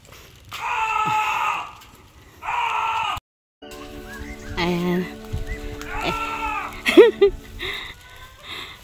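A goat bleats several times in loud, wavering cries, some strained and scream-like, broken by short pauses and other nearby farm noise.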